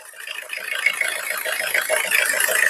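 A Tata Sumo Victa diesel engine idles steadily, a close, even mechanical clatter with a fast regular knock running throughout, no talking over it.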